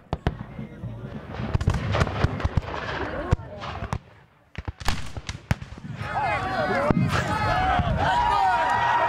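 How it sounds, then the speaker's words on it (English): Repeated booming blasts and sharp cracks of cannon fire at a Civil War battle reenactment, some loud and close, others overlapping, with a crowd murmuring and a steady hubbub building toward the end. "The last cannon is fired."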